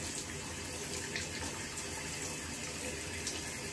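Tap water runs steadily into a shower or bathtub, a dense, continuous gushing hiss that stays close and loud throughout, with no speech.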